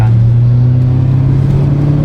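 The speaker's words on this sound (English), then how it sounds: "do you guys prefer the pops and the bangs or the natural sound of the V8?" A BMW E91 M3 wagon with a V8 engine drones loud and close, a sustained throaty engine note holding steady with a slight rise in pitch throughout.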